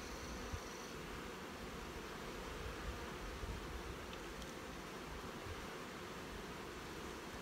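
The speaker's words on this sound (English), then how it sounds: "They're not short on bees anyway." Honey bees buzz steadily at an open hive during a queen-rearing graft check, a dense, continuous hum that stays even and close throughout with no talking.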